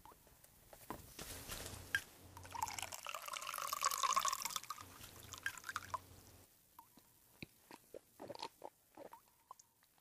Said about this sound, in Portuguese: Acho que ainda tem água no filtro de barro.